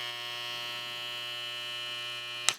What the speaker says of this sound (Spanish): Este es el máximo de ruido que puede dar este trimmer.